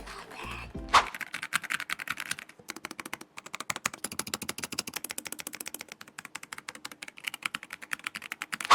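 Fast, steady typing on a computer keyboard at a home desk, with crisp, close key clicks in rapid bursts, a few short pauses between runs and a louder clack near the start.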